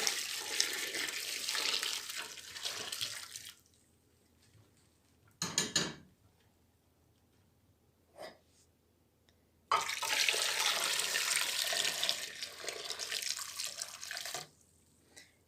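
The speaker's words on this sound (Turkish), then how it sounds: "Üzerine sıcak suyu bu şekilde boşaltacağım." Hot water mixed with baking soda and lemon is poured over tarnished decorative ornaments in a container, a close gushing splash that runs for a few seconds, stops, then returns, with brief clinks in between.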